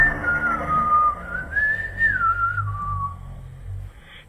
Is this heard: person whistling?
yes